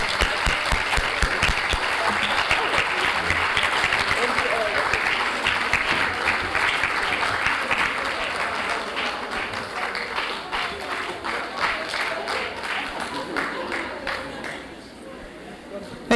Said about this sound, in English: Please let's give her a better round of applause.